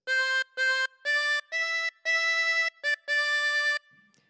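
A harmonica plays the second phrase of Ode to Joy, a run of seven or eight clear reedy notes of varying length, the last ones longer, played solo and close.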